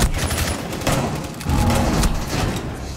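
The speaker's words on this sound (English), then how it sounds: "I'm shooting with a shotgun from 3 inches away" Shotgun fire in Rainbow Six Siege, with loud close blasts and rapid bursts of gunfire coming in clustered volleys across a few seconds, without audible talk.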